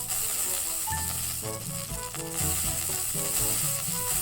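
Meat sizzles on a grill in the Yakiniku Simulation video game, a continuous bright hiss set beneath a light plinking melody of game music.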